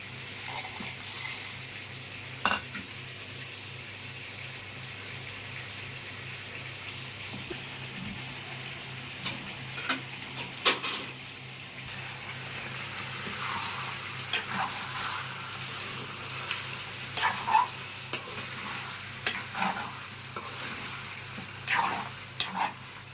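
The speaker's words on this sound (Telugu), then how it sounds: "హై ఫ్లేమ్లో పెట్టుకొని మధ్యలో కలుపుకుంటే దగ్గరుండి వేపించుకోవాలండి" Chicken masala roast sizzling and frying in a pan on a high flame, with a spoon stirring and scraping steadily; continuous close frying hiss broken by repeated clinks and scrapes of metal utensil against the pan.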